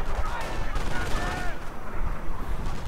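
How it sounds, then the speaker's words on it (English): Artillery fire in a World War II strategy video game rumbles through a dense battle din, with continuous low booms and scattered sharper cracks at a steady, busy level. "now we're seeing artillery from the base of Atomicvaultboy."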